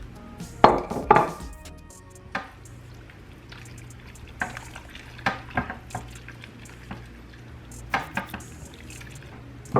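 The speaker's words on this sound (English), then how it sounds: "I'm going to add in my ground beef." Ground beef dropped into a slow cooker of potato soup, a few wet plops and sloppy stirring clatters, loud thumps early then softer intermittent splats and scrapes, close, with no speech.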